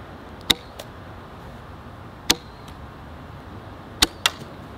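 A pencil arrow shot from a bamboo bow outdoors through a chronograph: four sharp, brief snaps spaced irregularly over a few seconds, above a quiet steady background hiss.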